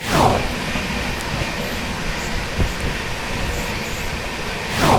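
The Secunderabad-Guntur Intercity Superfast express, train 12706, rolls along with a loud, steady rumble and wheel clatter, surging briefly louder at the start and end.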